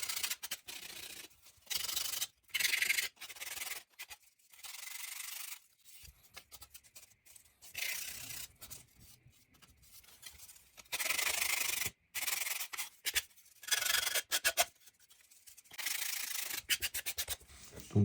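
Polishing sticks sand the plastic parts of a Zvezda BRDM-2 scale model kit in short, rapid rubbing bursts separated by brief pauses, close and crisp.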